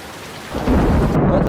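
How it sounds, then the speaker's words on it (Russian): Heavy rain pours in Guamka gorge, starting softer and swelling into a loud, steady downpour, with a deep rumble of thunder rolling beneath it. "начался сильный дождь"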